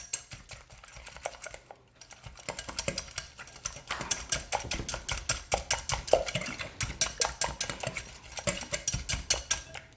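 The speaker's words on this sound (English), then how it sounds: "I'm going to beat these a little bit, break them up, make sure that the yolk and the egg white get all mixed together really well" Eggs being beaten for a pumpkin pie filling, a utensil whisking rapidly against the bowl in a fast, steady rhythm of close clicking strokes, with a brief pause early on.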